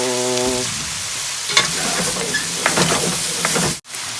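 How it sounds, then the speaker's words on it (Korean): Vegetables stir-frying in a hot wok for homemade jjajang, a steady loud sizzle with scraping stir strokes and clanks, a brief tonal hum at the start, no talk. "자, 그리고 볶아주세요. 또 볶아주세요."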